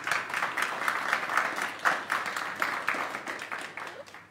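An audience at a Digital Futures workshop in Johannesburg applauds Gwen with a steady, fairly dense round of clapping that holds for several seconds and eases slightly toward the end.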